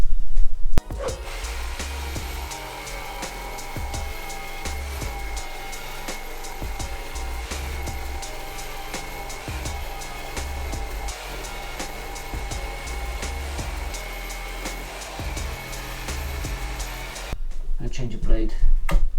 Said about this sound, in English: we're just going to jigsaw now straight across here